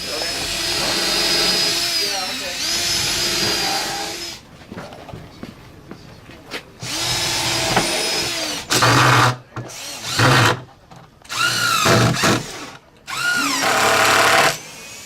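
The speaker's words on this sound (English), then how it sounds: "So there's your pre-drill the corner" A power drill whirs in several bursts of varying length, pre-drilling and driving screws into wood, with pauses between runs and people talking nearby during the breaks.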